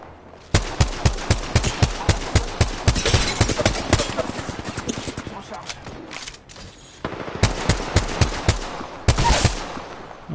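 Rapid automatic gunfire in the battle game Apex Legends, loud and close, with steady strings of shots that pause briefly and then start again.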